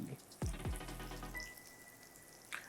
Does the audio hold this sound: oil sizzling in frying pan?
yes